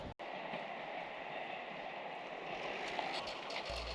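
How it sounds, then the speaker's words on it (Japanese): A Wadamisaki Line train pulling out of the station, heard as a faint, steady rumble and rattle that persists evenly throughout, with no voices. "今まさに折り返しの始発が発車するところ"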